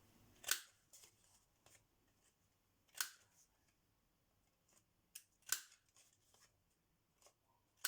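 Scissors snip around paper to round off its corners while making a small pocket letter craft, giving a few sharp, close cuts spaced out over quiet pauses.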